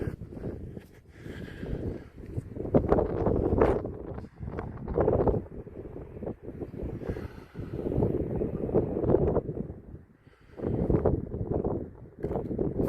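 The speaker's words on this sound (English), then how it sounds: "It's windy." Strong gusty wind buffets the microphone in uneven rumbling bursts at a football ground in Blaenau Ffestiniog, Wales, with brief lulls between gusts.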